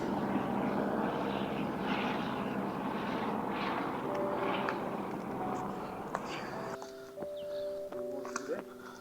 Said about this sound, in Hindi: ओहो, यहाँ तो हेलीकॉप्टर राइड भी है तभी।